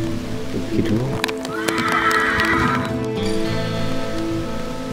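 A horse whinnies loudly and shakily for a couple of seconds, with faint hoof clatter and outdoor noise around it.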